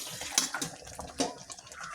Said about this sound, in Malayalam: കുറച്ച് വെള്ളവും എടുത്ത് നമ്മളിങ്ങനെ ഇതിനകത്തേക്ക് ഒഴിച്ചു കൊടുക്കണം